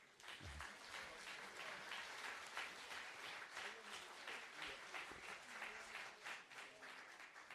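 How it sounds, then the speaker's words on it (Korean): A crowd at a presidential candidacy announcement applauding to welcome the candidate's family, dense sustained clapping filling a hall at a distant, even level. "누님 가족과 형님 가족 큰 박수로 환영해 주십시오"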